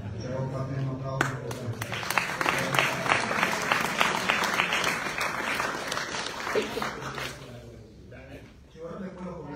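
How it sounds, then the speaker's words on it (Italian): Applause fills the room at a basketball press conference presenting the Italy vs Ukraine match, a dense, steady clapping from a gathered group that swells loud through the middle and tapers off near the end, with voices talking over it. "ho fatto un applauso"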